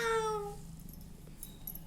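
A kitten gives one clear, high meow at the start that quickly fades, followed by quiet room sound with small faint rustles.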